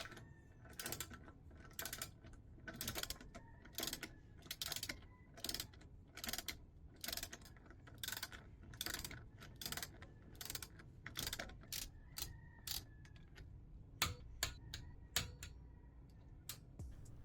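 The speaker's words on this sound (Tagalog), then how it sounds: "Pag tumunog na nga pala yung wrench, ibig sabihin, na-reach na niya yung sinet mo na torque." A FLYMAN adjustable torque wrench clicks repeatedly as wheel nuts on a car are tightened, a long series of sharp ratcheting ticks at a fairly even rhythm, close but quiet.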